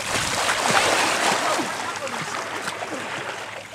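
Water splashes and sloshes close by for a few seconds as a person is thrown into water, with a loud burst of splashing early on that gradually settles.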